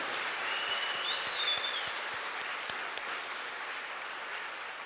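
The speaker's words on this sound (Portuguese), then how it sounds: "uma salva de palmas" Applause from a congregation during a Pentecost Mass homily, a soft, distant, even wash of clapping lasting several seconds with no talk over it.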